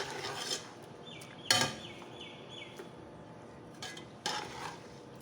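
Metal utensil scraping and clinking against a pressure cooker of mutton in a few bursts, close by, with quieter rubbing in between.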